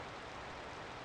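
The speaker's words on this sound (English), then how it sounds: "Oh, it's raining again." Steady, even rain hiss from the fishing video game Shigesato Itoi's No. 1 Bass Fishing, a soft continuous wash with no distinct drops standing out and no talking.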